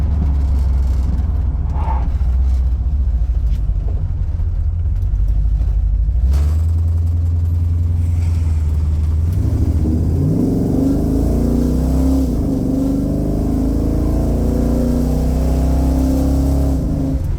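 A 1968 Chevrolet Chevelle SS with a numbers-matching 396 V8 cruising, heard as a steady, loud low engine drone with rumble that swells into a revving pull partway through, with no voices.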